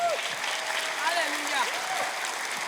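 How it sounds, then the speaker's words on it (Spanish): A church congregation applauds during a sermon, a steady wash of clapping with a voice and sung or shouted tones riding over it. "Dale un aplauso al Señor."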